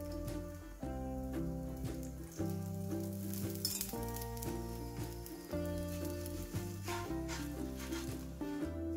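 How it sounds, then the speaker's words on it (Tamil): Paruppu poli cooks in a little ghee on a hot tawa over a medium flame, a faint, even sizzle running beneath background music, with no speech. "சூடான தோசைக்கல்லை போட்டு கொஞ்சமாக நெய் சேர்த்து மீடியம் ஃப்ளேமில் வேக விடுங்க."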